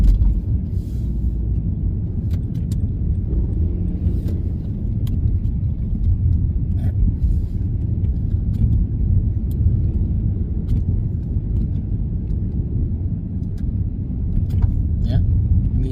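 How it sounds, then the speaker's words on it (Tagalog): Steady roar of busy road traffic, cars and heavier vehicles rolling past continuously at moderate distance, with a low rumbling bed and occasional faint higher clatter throughout. "medyo busy ang kalsada ngayong araw na to"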